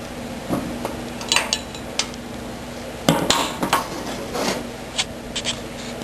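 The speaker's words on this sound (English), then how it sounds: "another socket wrench, a 1/2-inch socket, goes down over the top of it and locks it in even further." A 1/2-inch socket wrench tightens on a John Deere 1032 snowblower pulley with scattered metallic clicks and light clanks over a low steady hum, close and sparse.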